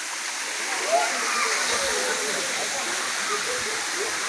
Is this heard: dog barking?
no